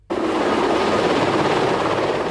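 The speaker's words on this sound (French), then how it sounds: "Paris a eu droit ce matin à un véritable balai d'hélicoptères." Helicopters fly over Paris during a transport strike, a loud, continuous rotor thrum and whine that begins abruptly and holds steady and close throughout.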